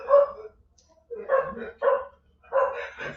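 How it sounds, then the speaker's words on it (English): Several dogs barking indoors in bursts, a single yap followed by clusters of rapid overlapping barks with short pauses between, moderately close and excited. "my roommate's home, so the dogs are freaking out"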